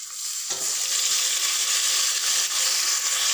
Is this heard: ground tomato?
yes